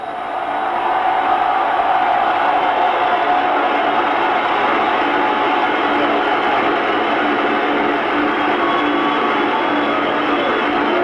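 A huge stadium crowd at Cinergy Field in Cincinnati roars and applauds for Major League Baseball legends at a farewell ceremony, a steady, loud wash of cheering and clapping that runs unbroken throughout.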